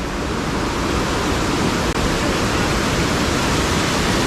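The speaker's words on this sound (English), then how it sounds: "We've had a lot of rain lately, so the water's flowing pretty good" A river in Veracruz running high and fast after heavy rain, a loud, steady broadband rush of churning water with no breaks, close by and alone with no voices.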